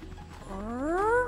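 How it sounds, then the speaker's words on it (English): A rising, whirring cartoon propeller sound effect for a helicopter character in a children's cartoon, sweeping steadily upward in pitch over about a second and growing louder, heard alone without talk. "That's the sound of Hector's propellers."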